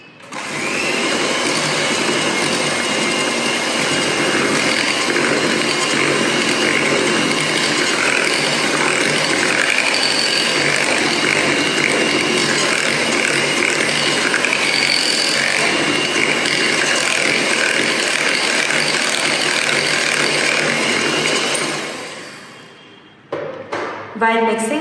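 An electric mixer runs steadily for about 22 seconds, beating vegan chocolate brownie batter made with Dutch-processed cocoa in a bowl, a dense continuous whir that cuts off near the end.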